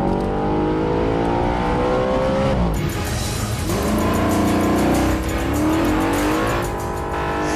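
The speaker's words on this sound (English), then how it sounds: "This means I can kick back and cruise, but also drive very, very fast." An Audi RS5 Cabriolet with a 4.2-litre V8 drives hard and fast, its engine note rising and falling through repeated revs and gear shifts, loud and close throughout without any talking.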